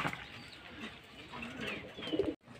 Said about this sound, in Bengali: সব পায়রা চান হয়ে গেছে